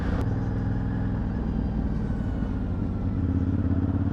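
Aprilia Shiver 900 twin-cylinder motorcycle engine running smoothly, a steady, close, even drone with a low pulsing rumble and no speech.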